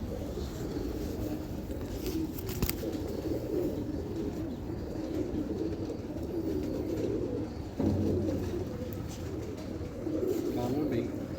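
Fancy-breed pigeons with striking eyes and feathers coo steadily in a low, continuous murmur close by, a soft layered burble of several birds with faint chirps on top.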